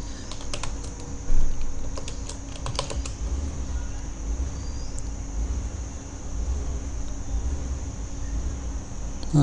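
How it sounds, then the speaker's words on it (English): A quick run of close keystrokes on a computer keyboard enters an Ubuntu terminal update command, clustered in the first few seconds, then a quiet steady room hum with only a stray key press. "What you need to type is sudo apt-get update."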